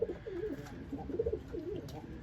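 Racing and roller pigeons, old and young cocks and hens, cooing in a loft: repeated soft rolling coos in overlapping phrases, close and steady, with no talk.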